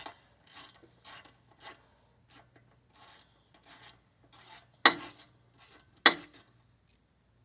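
A ratchet works valve cover bolts loose on a Honda HRR216 lawn mower, giving a series of short, close mechanical clicking bursts with two sharper, louder snaps near the end.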